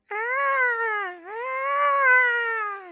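A cat gives one long, drawn-out meow that wavers in pitch and dips briefly near the middle before rising again, loud and close, with no talking.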